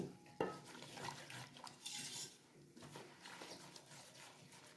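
A utensil scrapes and clinks against a pot while stirring sand and water for sand-brewed coffee, with a sharp knock near the start and soft, uneven swishing throughout.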